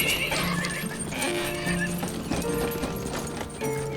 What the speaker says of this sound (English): a passing farmer offered them a ride in his horse-drawn hay cart